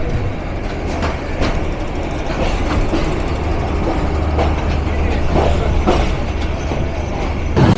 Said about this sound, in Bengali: এগারো সিন্ধু কিশোরগঞ্জ থেকে ঢাকা অভিমুখে।